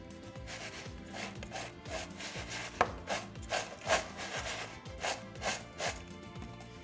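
Sugar, raisins and almonds are mixed together in a bowl for a pear upside-down cake, giving a quiet, close, rhythmic rubbing and scraping that repeats steadily with no voices.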